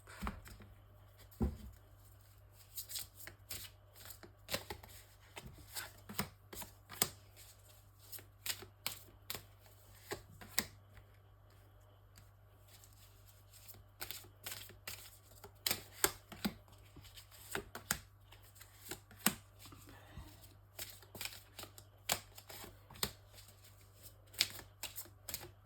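A deck of cards being shuffled and cut during a tarot-style reading, with a steady run of crisp riffles and taps close up, alone without talk, under a low constant hum.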